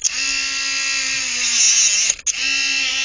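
A Dremel rotary tool cutting through a steel cable bike lock, a loud, steady high-pitched whine with grinding overtones that dips briefly near the end and then resumes.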